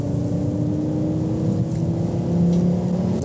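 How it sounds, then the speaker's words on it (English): Audi 90 (Typ 89 B3) engine pulling steadily on a track, heard from inside the cockpit as a sustained drone with stable harmonics that swells slightly near the end, loud with no voices. "The only noise coming into the cockpit area is from the engine"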